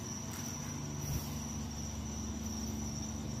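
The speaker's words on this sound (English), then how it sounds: "It's so quiet out here, other than the damn crickets." Crickets chirp outdoors in a steady high trill on a quiet evening in North Port, Florida, with a faint low hum underneath and no talk.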